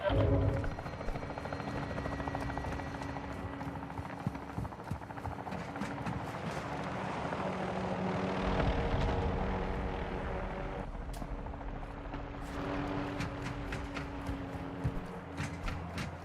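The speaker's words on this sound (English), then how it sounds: "Hostile VTOL in the area." A hostile VTOL aircraft flies overhead in the video game Warzone 2, making a continuous loud rotor and engine roar with battle noise and scattered impacts mixed in.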